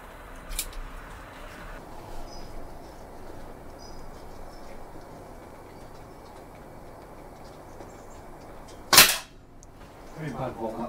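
A single shot from an SMK PR900W air rifle loaded from a single-shot tray, heard as one sharp crack standing out against quiet outdoor background noise.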